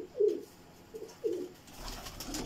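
Pigeons give two soft, low coos about a second apart, fairly close in a quiet setting, with faint background noise rising toward the end.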